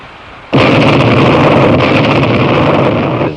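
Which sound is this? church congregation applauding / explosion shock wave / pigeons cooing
explosion shock wave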